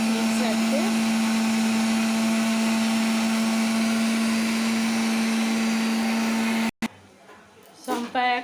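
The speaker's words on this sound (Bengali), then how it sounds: "আর শম্পা এখন পোস্ত বাড়ছে, মিক্সারতে।" A kitchen mixer grinder whirs steadily while grinding poppy seeds into paste, a loud, constant motor drone that cuts off abruptly near the end, followed by faint household noise and a brief voice.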